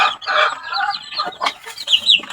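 Gilmore X Sweater gamefowl rooster kept in a backyard, clucking and calling in a string of close, fairly loud bursts with brief gaps, with no talk.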